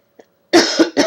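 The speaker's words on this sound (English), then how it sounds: "so I'm coughing a little bit" A person with a gland infection coughs three times in quick succession, close and loud, after a tiny throat sound.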